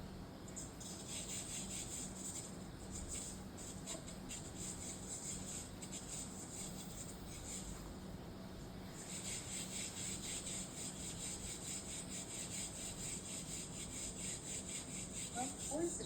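Soft pastel sticks rubbed across paper on a drawing, giving a steady, continuous scratchy friction that runs nearly unbroken from start to finish at close range, with faint voices in the background.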